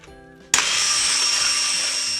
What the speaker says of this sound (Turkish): Mayonez kıvamına gelinceye kadar güzelce çırpalım.